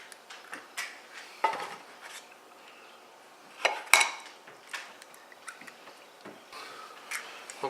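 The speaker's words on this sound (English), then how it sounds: "we'll crack 4 eggs in a dark dish so we can see if we miss any shells" Eggs cracked into a dark dish beside a bowl of flour, heard as several sharp taps and clinks on the dish edge spaced across a few seconds, with light scraping and rubbing between them and no talking.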